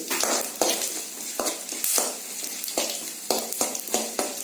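Coriander seeds and cumin frying in hot oil for tomato roti pachadi, a crackling sizzle broken by repeated sharp spatula scrapes and pan knocks in an uneven rhythm, close and fairly loud with no talking.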